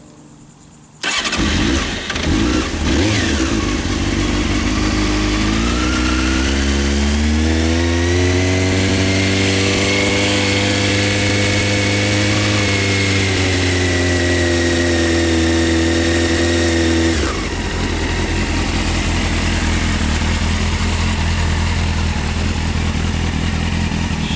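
A 1998 Honda CBR F3 sport motorcycle fires up after a brief crank and settles into a loud, steady idle close by, its engine note rising briefly before holding even, then dropping back near the end.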